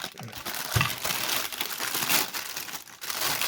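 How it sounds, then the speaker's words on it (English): A plastic bag crinkling and rustling close by as a foot pedal is unpacked, continuous crackly handling noise with a few sharper crunches, no talk over it. "gratuitous plastic bag noises"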